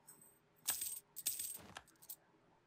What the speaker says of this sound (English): I'm going to take out a loan by clicking this button right here.